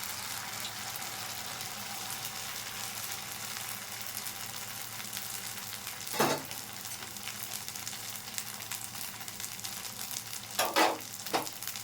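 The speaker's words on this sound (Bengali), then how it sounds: "দিয়ে জিলিপিগুলো ভেজে নেব। আমি ছোট ছোট জিলিপি ভাজবো।" Small jalebi coils fry in hot oil over a low flame, giving a soft, continuous bubbling hiss with a few brief clicks, fairly quiet and without voices.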